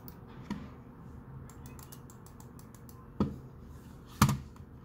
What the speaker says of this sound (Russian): давайте послушаем, как звучит клики на данной мыши со всех кнопок